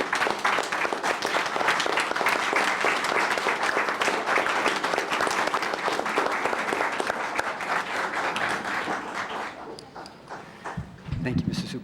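Loud, sustained applause for a superintendent at a school board meeting, a dense crowd of clapping hands that thins out toward the end, with some voices mixed in.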